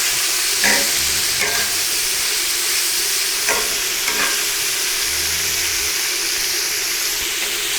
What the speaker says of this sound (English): Nice golden sears on this. Nice little searing action.